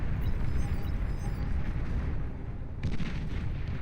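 Energy converter blowing up in the strategy game Beyond All Reason amid a collapsing base, a dense rumbling blast with crackling debris and a sharp secondary burst near the end.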